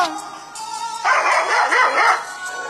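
Dog barking and yipping in a comedy scene set at a hospital, a close, loud burst of excited barks in the middle of the moment, over a busy background with faint voices.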